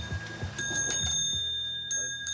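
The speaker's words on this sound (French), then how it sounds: "C'est une sonnette à l'ancienne." A bright metallic old-fashioned doorbell at a small hotel in Cyprus rings with a sustained tone, struck a few times over soft knocking, clear and close.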